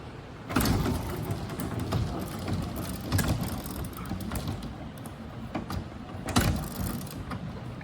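A wave turbine model's flywheel turns through its gear switch mechanism, a continuous close mechanical rattle of ticking gears and clicks with a few louder clacks, steady throughout and without talk.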